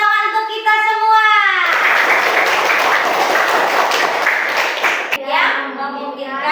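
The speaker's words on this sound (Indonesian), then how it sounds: "Beri tepuk tangan untuk kelompok 3" A classroom group claps for the third team, a dense burst of many hands that lasts several seconds; a voice speaks just before the clapping and again after it fades.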